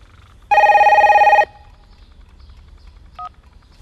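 A telephone rings in one loud, steady trilling burst lasting about a second, followed by near silence and a brief, faint electronic blip of a tone later.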